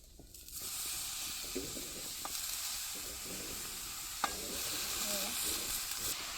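Banana flowers being stirred into fried masala in a pan, a steady close sizzle with soft scraping strokes and a couple of sharp utensil taps.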